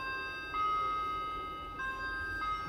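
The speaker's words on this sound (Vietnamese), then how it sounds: "con này thì đến giờ nó là đấy, nó đổ chuông, có nhạc và đổ chuông" A Japanese domestic wall clock plays a sustained electronic chime melody of steady tones, with note changes at intervals, fairly clear against quiet room noise.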